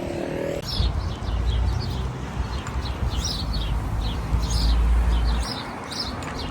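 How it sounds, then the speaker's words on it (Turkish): Small birds chirp in short, scattered bursts from trees above a steady low rumble of outdoor background noise in America. "Kuşların sesini duyun diye ağaçlarda böyle minik minik varlar."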